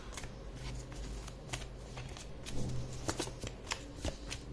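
Tarot cards shuffled by hand, a continuous close riffling and flicking of cards with soft slaps, heard alone without talk.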